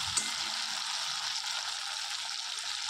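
Chicken kosha with tomato and capsicum fries in a pan, producing a soft, even, continuous sizzle with faint stirring. It sounds fairly quiet and steady throughout, with no talking.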